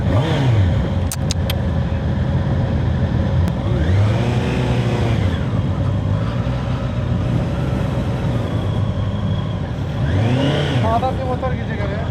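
A Honda CBR650R motorcycle engine is revved up and down several times nearby, each rise and drop sweeping clearly, over a constant idle with people talking around it.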